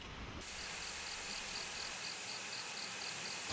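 Male cicadas sing in a steady, continuous buzzing drone that holds at an even level throughout, with a faint pulsing edge, outdoors in a wildlife-filled garden.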